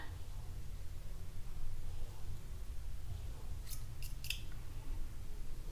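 A blade scraping the tip of a woodwind reed during repair, heard as three quick, faint, crisp strokes over a steady low background hum.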